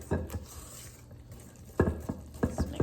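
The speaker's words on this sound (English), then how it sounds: "This is a fairly thin cake batter, so you can easily mix it by hand." Chocolate sheet cake batter, thin enough to mix by hand, gets whisked in a bowl, giving soft clinking strokes in short bursts with quiet pauses between them.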